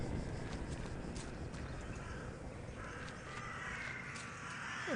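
Crows caw in the horror adventure game The Last Door over a steady, dense background that includes a hoof-like clatter, with no talking.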